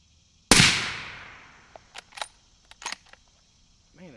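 A suppressed Remington 783 rifle fitted with a Liberty Mystic X suppressor fires a single sharp report that decays quickly. A few quiet mechanical clicks and rustles follow.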